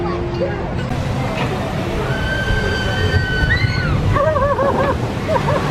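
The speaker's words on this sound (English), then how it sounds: "Oh, you see the water splash now? Shot up this time." A rushing splash of water on a Disney log flume ride against a steady roar, with excited crowd voices and shrieks rising over it.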